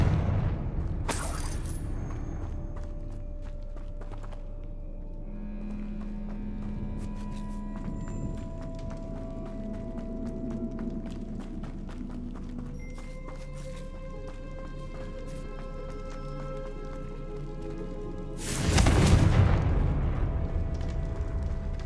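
In Hogwarts Legacy, a Confringo fire spell bursts with a sharp blast early on and a louder, fuller explosion near the end, amid faint footsteps, soft game tones and a low background hum.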